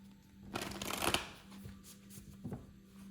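A deck of tarot cards is shuffled up close in one brief riffling burst with a softer flick after it, over a low steady hum.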